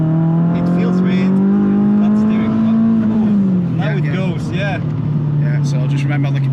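A Renault Clio Trophy engine revs hard on a track, one steady loud note that climbs slightly and then drops into a lower drone, with someone talking over it throughout.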